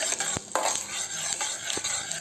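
A spoon stirs a tempering of cumin, fenugreek, mustard seeds and dal in hot oil in a kadai for Andhra-style raw mango groundnut chutney, with quick scraping metal clinks over a steady sizzling hiss.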